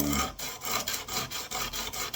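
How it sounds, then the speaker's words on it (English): Sandpaper rubs rhythmically over a wooden gun part, steady close raspy strokes repeating back and forth with short gaps between passes. "continue sanding."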